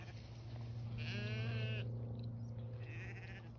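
A freshly sheared sheep bleats once in a drawn-out wavering call, followed by a fainter shorter bleat, heard fairly close over a steady low background hum.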